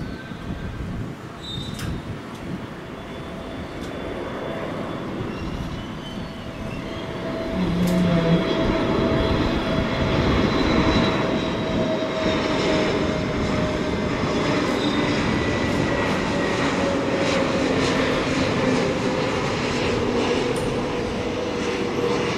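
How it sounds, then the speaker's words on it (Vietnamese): A Starlux Airbus A321neo lands on runway 25R at Tan Son Nhat airport, its jet roar swelling louder partway through and then holding as a broad, steady rush of engine noise. "Bây giờ chiếc máy bay được lệnh hạ cánh xuống đường băng 25 phải, sân bay Tân Sơn Nhất."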